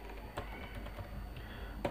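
Light keystrokes on a computer keyboard while text is entered in a Python tutorial, quiet taps scattered over a low steady hum, with a slightly louder key press near the end.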